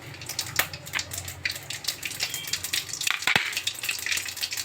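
Mustard seeds and a dried red chili fry in hot oil in a pan, a continuous crackling sizzle with scattered sharp pops and a few louder spits, heard close up and alone.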